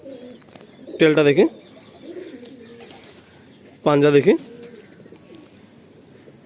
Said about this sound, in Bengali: এটা একটা নর পায়রা আছে